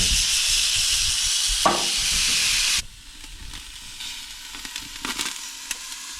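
A burger patty hits a Coleman Road Trip 285 propane grill and sizzles loudly for nearly three seconds, then drops to a softer frying hiss broken by scraping and light tapping.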